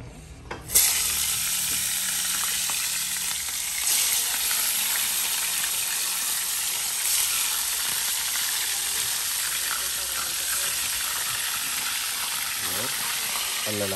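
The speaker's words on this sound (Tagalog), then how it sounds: "Prito muna tayo." Vegetables fry in a pan for a sinigang sa kamias dish, giving a loud, continuous sizzle and hiss with occasional stirring clatter, steady from start to finish.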